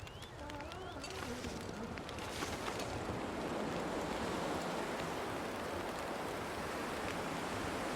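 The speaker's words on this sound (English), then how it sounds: "We'll just avoid the wind for a minute here." Wind howling across the winter landscape of The Long Dark, a loud, steady roaring rush that swells slightly and never lets up, with faint tonal whistles early on.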